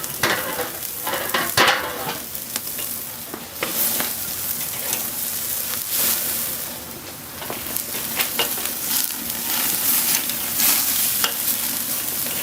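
A steak sizzles steadily on a Weber Gold grill, a close, even crackle with a few brief sharper clicks and no talking.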